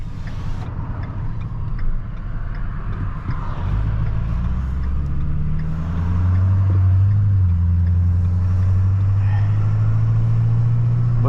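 A car drives along a rural road near Calgary, its steady engine and road rumble filling the cabin continuously throughout, with a low drone rising slightly in pitch partway through.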